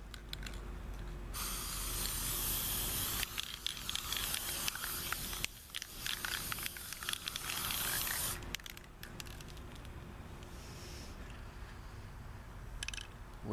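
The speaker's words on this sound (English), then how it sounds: "I'm going to use some gold spray paint on him." Gold spray paint hisses steadily from an aerosol can onto an amiibo figure in long close bursts with brief pauses between passes.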